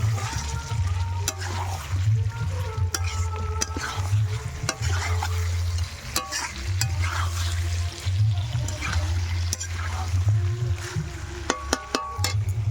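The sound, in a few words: potatoes added and stirred into frying chicken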